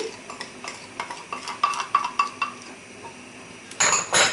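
Yeast dough for baked doughnuts being mixed in a bowl, with flour, yeast starter, sugar, oil, an egg yolk and an egg, giving a series of soft irregular knocks and scrapes, then a louder brighter clatter near the end.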